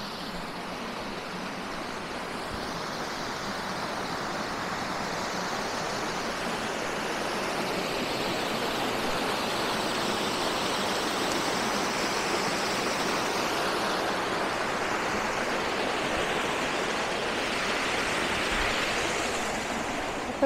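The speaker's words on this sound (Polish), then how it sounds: "a tam dalej są takie zrobione schody i po nich spływa woda" Water rushes down man-made stone steps in a stream in Carding Mill Valley, a steady, full, continuous wash of noise that swells gently and never stops.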